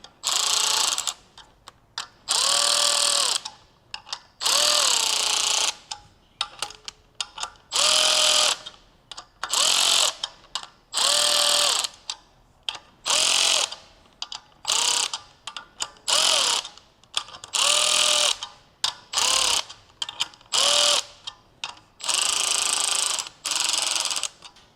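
Nuts being tightened on the bolts of a valve spring compressor tool on a BMW M57 3.0 diesel engine, a loud ratcheting tool whirring in repeated short bursts with pauses between, close and alone.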